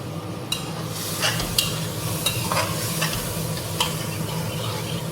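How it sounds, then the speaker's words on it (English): Onion-garlic paste with yogurt (dahi) frying in a pan for palak paneer, giving a low steady sizzle with scattered stirring scrapes and spoon clicks, fairly close, no talk. "Let this fry together for about 30 seconds."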